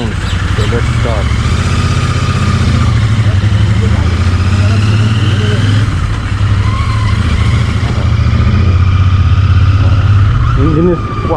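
Royal Enfield Meteor 350 motorcycle engine running steadily and loud throughout, a continuous low thrum with some rising revs near the end.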